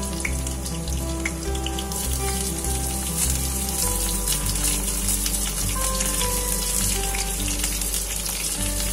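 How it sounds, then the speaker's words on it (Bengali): Potatoes and radishes dropped into hot oil tempered with nigella seeds and green chillies, giving a steady close sizzle and crackle, with faint kitchen clatter over the ongoing frying. "ফোড়নটা একটু ভাজা হয়ে গেলে আমি সবজিগুলো দিয়ে দিচ্ছি।"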